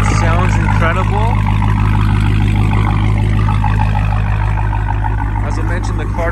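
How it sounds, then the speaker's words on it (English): Dodge Charger Hellcat with a muffler delete idling, a loud, steady low rumble filling the whole stretch while someone talks over it. "the car does have a muffler delete, so it sounds super awesome"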